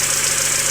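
A 1998 Hyundai Coupe 2.0 SE engine runs smoothly without misfiring, a loud, even mechanical hum with a fast regular pulse throughout the brief moment.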